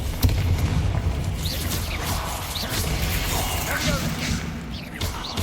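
Combat spells including Bombarda, Expelliarmus and Confringo blast in Hogwarts Legacy, a dense, loud run of booms, crashes and whooshes with crackling impacts, while a voice keeps calling out over the fighting.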